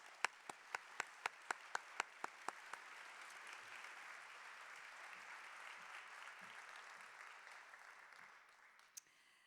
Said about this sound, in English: Will you honor their family with a round of applause?